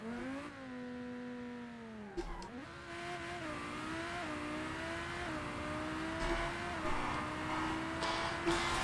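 A Civetta car from the video game BeamNG.drive revs and accelerates, its engine tone climbing and wavering with brief dips and surges as gears change, loud and close throughout without speech.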